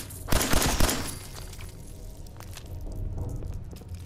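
A short burst of rapid gunfire rattles out loudly in Fallout 4 with the Terminator mod, a quick cluster of shots lasting under a second, followed by quieter scuffing and a few faint clicks.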